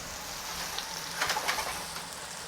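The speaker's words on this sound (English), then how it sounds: "give it a nice sear on both sides and then turn down the heat" Steady, fairly quiet sizzle of food searing in a hot pan, a continuous hiss with a few brief crackling spikes in the middle, no talking.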